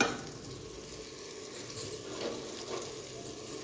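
Chicken legs sizzle in a pan while dry spices such as chilies, carom seeds, black cardamom, star anise and cloves roast with them, giving a soft, steady frying crackle with faint scattered pops.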